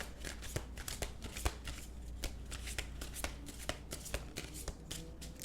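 Tarot cards are shuffled repeatedly by hand, a quiet series of riffling, flapping bursts close to the microphone.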